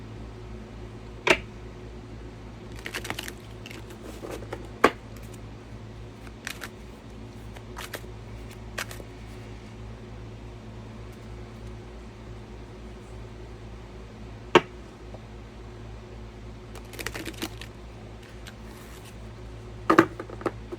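Tarot cards being shuffled, with scattered soft snaps and riffles at irregular intervals over a steady background hum.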